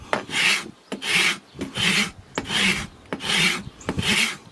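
A farrier's rasp files down a horse's hoof wall in six steady, evenly spaced strokes, each a loud, close, gritty scrape with short pauses between.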